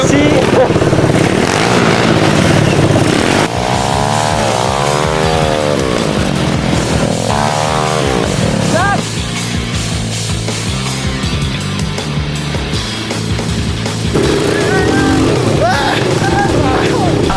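A 250cc engine fitted in a kids' ATV runs loud and close, revving up and down with rising and falling pitch, while people talk and shout over it.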